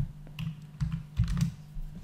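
Keyboard shortcut presses while UV unwrapping a LEGO custom character model in Blender, heard as a few quick, close clicks of keys in a short burst over a low steady hum.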